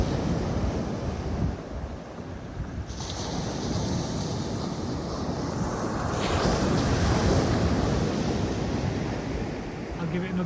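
Waves roll onto the beach on the Holderness coast at Withernsea as the tide comes in quickly. The surf keeps up a steady wash and rumble throughout, with gusting wind buffeting the microphone and swells building midway.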